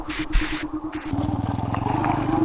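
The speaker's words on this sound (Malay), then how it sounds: "Aku tunggu Cikgu Forest start motor dia" A motorcycle engine sputters to life and settles into a close, steady throbbing idle whose pulse quickens after about a second, on a monsoon-season ride.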